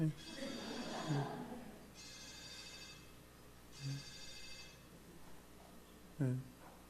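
A telephone ringtone chimes in three repeated bursts during a church prayer-meeting sermon. A voice talks over the quiet hall between and under the rings.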